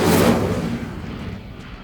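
The Incendio fire spell is cast in the game Hogwarts Legacy: a loud, fiery whooshing burst at the start that fades away over the next second or so.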